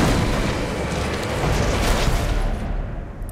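A loud, booming gunshot blast in Jurassic Park: The Game, with a long roaring rumble that fills the whole moment and fades slightly at the end.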